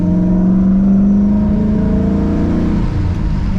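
A car engine revs loudly and steadily up through third, fourth and fifth gear, a continuous close droning roar whose pitch climbs and drops slightly at each shift, with no talking.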